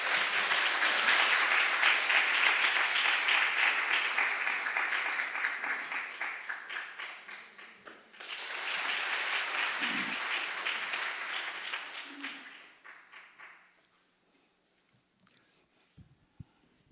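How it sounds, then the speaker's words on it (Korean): A church congregation at a Sunday evening service claps in two long bursts of welcome, the first fading out, then a second swell that tapers off into near silence. "우리 박수로 환영하겠습니다."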